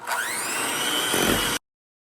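An electric mixer beats cake batter for a praline pecan vanilla cake. It gives a steady, close whirring whine that runs for about a second and a half, then stops abruptly.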